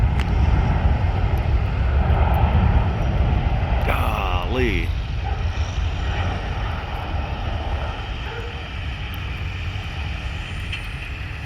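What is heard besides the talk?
large military plane landing at Hilo Airport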